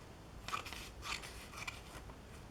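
Scissors cut paper for a flower appliqué in three quiet, crisp snips spaced about half a second apart, alone with no talk.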